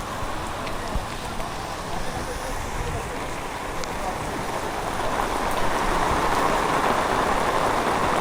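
Steady rain falls in a broad continuous hiss of drops on surfaces. It grows slightly heavier and closer toward the end, with no clear voices.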